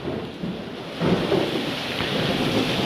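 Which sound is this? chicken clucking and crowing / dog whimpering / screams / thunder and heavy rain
thunder and heavy rain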